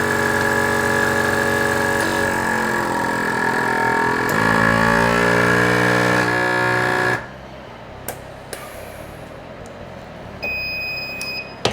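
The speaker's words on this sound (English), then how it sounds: "Turn the machine on. I'm using the VacMaster Pro 305 here." A VacMaster Pro 305 vacuum sealer runs with a loud, steady motor hum for about seven seconds while drawing air from a bag, then cuts off, followed by a few faint clicks and a brief quieter whir near the end.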